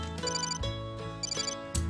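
A telephone rings in a Whirlpool Smart Range commercial aired during a college basketball broadcast, with short bursts of ringing tones repeating at a steady rhythm over music, fairly faint.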